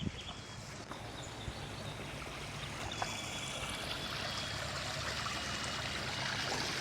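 Steady gentle trickle of water at a small farm pond, a constant soft rushing wash with faint splashy detail, moderately quiet and unbroken throughout, no voices.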